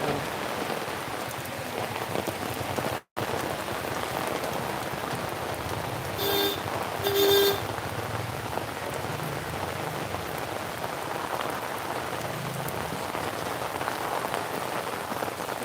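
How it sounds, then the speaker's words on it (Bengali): Steady rain pours down on surfaces with a dense, even patter throughout, and a brief distant horn toots partway through. "দেখুন বৃষ্টির মধ্যে চলে বৃষ্টি পড়ছে অলরেডি দেখুন"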